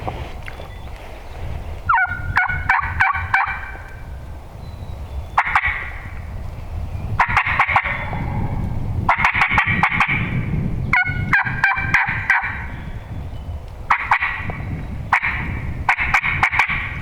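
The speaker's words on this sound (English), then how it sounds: "the turkey just gobbled out the blue off behind us" Wild turkey gobbling outdoors while hunters wait on public land, repeated rattling gobbles from a distant bird every few seconds over a soft outdoor background, interspersed with sharp clicks.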